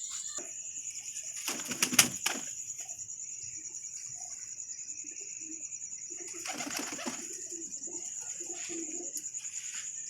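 A female pigeon coos softly in two short bursts, near and fairly quiet, over a constant high-pitched whine and faint background rustling.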